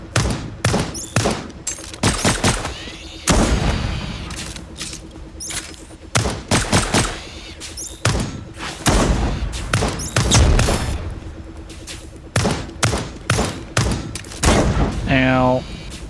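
Repeated shotgun blasts and other gunfire in the video game Lost Skies, loud and irregularly spaced, set inside a building amid a busy game soundtrack, with a voice talking over it.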